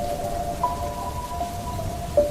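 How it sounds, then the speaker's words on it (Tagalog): Heavy rain pours in a steady, dense hiss, loud and close, with a faint tonal hum running beneath it. "malakas ang pagbulwak ng tubig na nakikipagsabayan sa malakas na buhos ng ulan"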